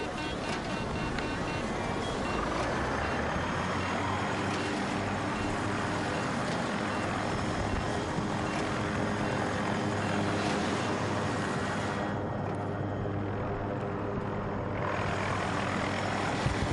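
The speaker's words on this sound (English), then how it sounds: "Helicopter!" A helicopter in the Battlefield 2042 video game throbs loudly overhead with a dense, continuous rotor and engine roar. Gunfire and battle noise mix in, and the sound dips briefly near the end before surging back.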